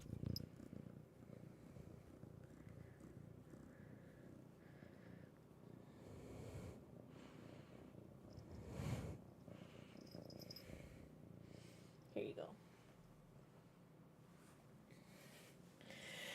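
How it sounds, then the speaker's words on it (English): A male cat purrs steadily and closely, a continuous low rumbling throughout, with a brief louder rustle or snort near the middle and another short sound later. "Can you hear him purring, chat?"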